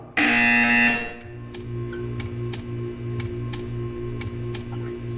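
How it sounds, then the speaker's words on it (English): A loud, harsh buzzer in Portal 2 blares for about a second, then stops, leaving a steady rhythmic ticking with a low pulsing hum. "When you hear the buzzer, stare at the art."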